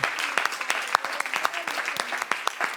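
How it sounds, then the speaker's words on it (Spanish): A church congregation applauds in worship, with scattered sharp claps at moderate distance forming an uneven patter, joined by faint voices calling out. "darle un aplauso a Halleluja. nuestro Señor"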